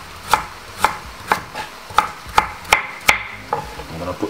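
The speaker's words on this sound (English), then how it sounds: "Cut the carrot a little bit chunky, but you don't want them to mush up." A knife chops carrot into chunky pieces on a board, eight or nine crisp, evenly spaced cuts close by, then a few softer taps, with no talking.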